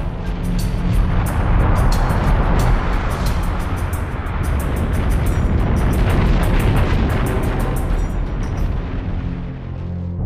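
A huge volcanic eruption at Yellowstone: a continuous, loud, roaring rumble with deep booming low end and crackling hiss across ten seconds, steady and overwhelming with no pauses.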